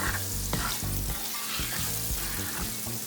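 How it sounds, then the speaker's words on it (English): Onions sautéing in a pan as the base for smothered chicken and stock crackle in a loud, dense sizzle, with repeated scraping strokes of a stirring utensil close by. "I'm going to put the onions in here and we're going to saute this"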